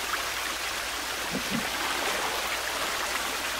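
Steady, close trickling stream of drinkable water in The Forest VR, a continuous soft rushing flow with a couple of faint low splashes and no voices.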